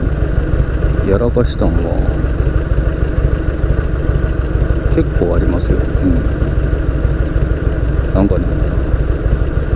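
A 1983 Harley-Davidson Shovelhead FLH80 with about 100,000 km on it runs on the road with a loud, steady engine rumble while someone talks over it.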